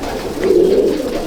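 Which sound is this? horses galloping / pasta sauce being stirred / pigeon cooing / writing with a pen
pigeon cooing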